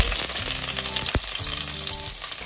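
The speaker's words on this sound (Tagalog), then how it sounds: "Tapos nagisa na tayo na bawang sa kawali." Chopped garlic sautés in a pan for beef curry, giving a steady close sizzle and crackle for the whole stretch, with one sharp utensil knock partway through.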